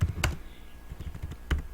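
Keys tap on a computer keyboard while a search entry is typed into an Excel spreadsheet, a quiet close run of clicks with two sharper keystrokes standing out, and no voice.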